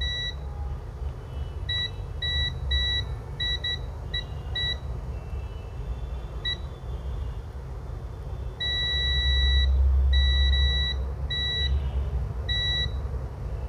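A multimeter in continuity mode beeping while checking capacitors on a circuit board, with short clipped beeps in irregular bursts and then longer sustained tones, sharp and clear over a low background rumble.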